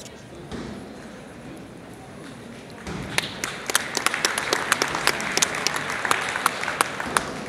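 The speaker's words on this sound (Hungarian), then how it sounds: "Én azért most tapsolnék" Applause breaks out from the audience at a gala show in Debrecen, rising after a quieter stretch into dense, sharp clapping that continues steadily to the end, close and fairly loud.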